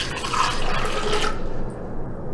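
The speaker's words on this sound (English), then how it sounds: "I start off by adding about a cup of water" About a cup of water poured into a blender decanter for a morning superfood smoothie, a steady splashing pour lasting over a second before stopping abruptly, close and fairly loud with no talking.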